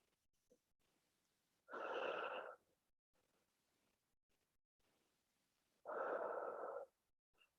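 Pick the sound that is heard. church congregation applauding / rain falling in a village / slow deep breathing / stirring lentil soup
slow deep breathing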